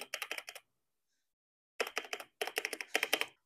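Keys clatter on an AKKO MOD 001 mechanical keyboard with a rattling stabilizer: two bursts of rapid typing separated by a second of silence, close and crisp, with no talking.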